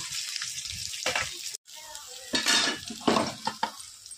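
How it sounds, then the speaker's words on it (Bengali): Fish frying in a pan for an Indian recipe, a steady sizzle with stirring and clinks of utensils against the pan, broken by a brief pause near the middle, close and fairly loud. "সবগুলো মাছ এভাবে ভেজে নেব।"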